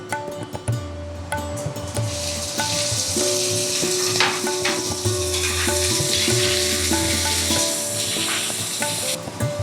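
Cut eggplant sizzles steadily in hot oil in a pan for a Bengali drumstick-flower chorchori, a loud continuous frying hiss with occasional stirring scrapes and a faint low hum underneath.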